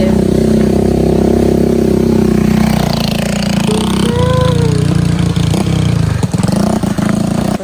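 A motocross motorcycle engine runs steadily and loud up close, a continuous droning rumble with slight shifts in pitch, people faintly talking nearby.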